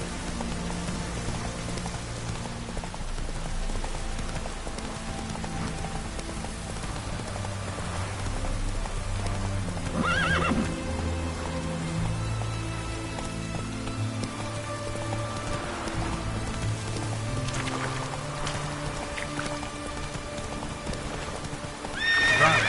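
A horse in The Witcher 3 video game gallops with rhythmic clip-clop hoofbeats under falling rain, whinnying now and then, over a low musical game soundtrack.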